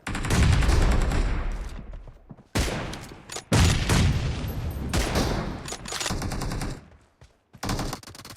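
Sustained bursts of video game gunfire from an M24 and an AR in a squad-versus-squad team deathmatch in a warehouse, loud and dense with rapid automatic volleys broken by short pauses, no talk over it.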